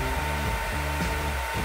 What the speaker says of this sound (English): a very loud fan hit me as soon as I turned the printer on for the first time